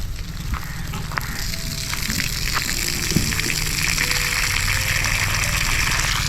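Water running and splashing steadily as potted plants and garden trees are watered on a village terrace in Konkan, a constant near hiss with a few faint tonal sounds in the background.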